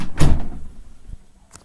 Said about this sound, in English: Boris, why are you closing the door?